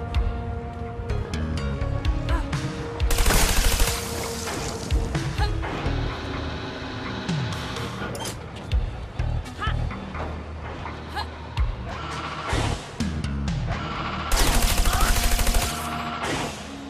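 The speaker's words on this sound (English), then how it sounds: "Shoot him before he shoots you." Gunfire from the video game Trials of the Blood Dragon on Xbox One: loud bursts of shots and rapid automatic fire over a dense, busy game soundtrack, with heavier volleys near the start and end.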